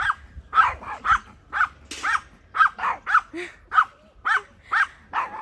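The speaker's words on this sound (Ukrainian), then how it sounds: "Ладно, не буду вам довго знімати цей гавкіт." A collie barking repeatedly and steadily, about a dozen sharp barks in even rhythm, close and loud, with a low growl between them.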